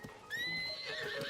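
Horse in the video game Zelda: Tears of the Kingdom lets out a single clear, close whinny with a rising then wavering tone, over faint hoof sounds.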